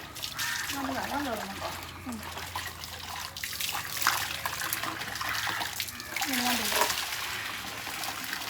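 Water runs and splashes into a tub being filled to wash newborn clothes, a steady trickle and slosh under ongoing conversation nearby.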